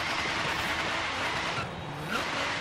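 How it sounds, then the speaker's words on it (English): Short throttle blip from a slammed Nissan 240SX drift build in Forza Horizon 3, a quick engine rev swelling and settling over steady idle rumble, close and fairly loud. "Let's give a little blip of the throttle."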